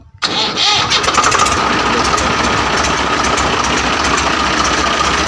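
A Swaraj 735 tractor engine with its silencer removed bursts into life and runs loud and steady, a raw, unmuffled rumble with rapid exhaust pulses sustained close by.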